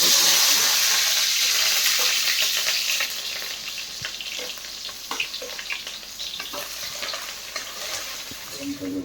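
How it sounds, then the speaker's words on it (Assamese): Chopped onion, garlic and chili fry in hot oil in a pan, a loud continuous sizzle up close with frequent stirring scrapes, easing slightly partway through. "ইয়াত ভাজি কৰি লওঁ।"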